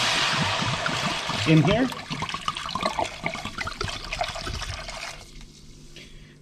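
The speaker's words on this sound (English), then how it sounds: "I'm going to pour this entire bottle of wine, which is" An entire bottle of white wine pours into a hot pan of paste over medium heat, a loud splashing gush that settles into a sizzling trickle, with a voice speaking briefly over it.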